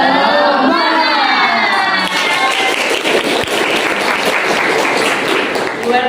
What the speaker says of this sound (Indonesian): Tepuk tangan dulu buat Nopal dong.